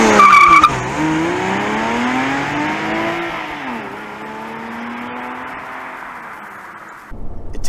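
A base Porsche Cayman engine revs hard under acceleration, pitch climbing steadily through the gears with a brief dip at each shift, loud and close from inside the car, then cutting off near the end.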